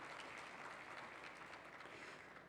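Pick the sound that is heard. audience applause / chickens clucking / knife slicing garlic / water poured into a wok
audience applause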